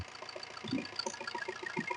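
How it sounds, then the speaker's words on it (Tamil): Maruti Swift Dzire car engine idling at a used-car lot, a steady low, slightly knocking mechanical hum running continuously up close, with faint background noise and no speech. "வண்டி இன்ஜின் பீட் பாருங்க தரமாக இருக்குது"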